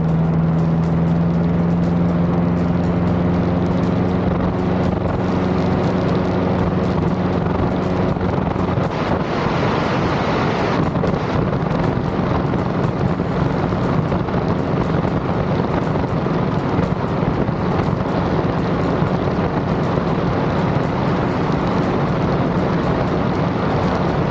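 A Lake 200 EP seaplane's propeller engine drones steadily on water with a low tonal hum and buzzing harmonics, loud and continuous, mixed with wind buffeting the microphone throughout.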